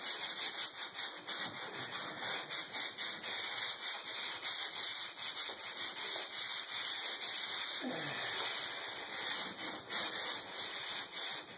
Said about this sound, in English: the sanding goes really fast if you put it on right